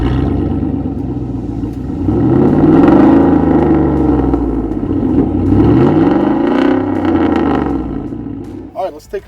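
Apocalypse 6x6 truck with a 500 hp Corvette LS3 V8, loud and close, its engine swelling through two rising-and-falling revs over a steady idle rumble, with a voice talking over it.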